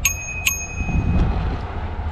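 A bicycle bell on a Touroll U1 29 electric bike rings twice in quick succession at the start, bright and close, then fades into a low background rumble.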